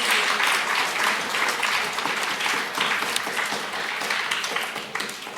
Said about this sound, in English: Let's give everyone a round of applause after that round.